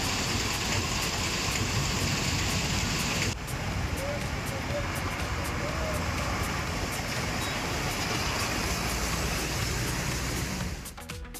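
Heavy rain pours down steadily across rural villages, a dense, constant hiss filling the whole stretch, loud and close, with a brief shift partway through and the downpour continuing to the end.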